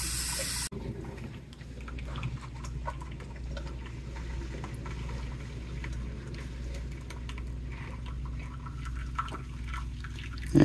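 Water running and pouring steadily into a container to soak a part, a continuous close wash of liquid sound lasting throughout with small drips and splashes, no voices.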